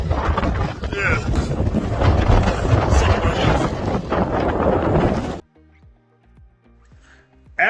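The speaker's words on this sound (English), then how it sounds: "it is windy as fuck out here in Iceland" Strong wind in Iceland roars and buffets the microphone in heavy gusts for several seconds, then suddenly drops away to near silence with faint distant sounds.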